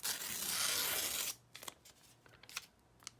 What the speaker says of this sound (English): So I'm just going to tear this off.